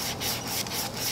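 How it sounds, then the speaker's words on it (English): Sandpaper is rubbed by hand along the grain of a wooden furniture piece, giving a close, continuous scratchy rasp with gently pulsing strokes. "take whatever sandpaper you're using and go"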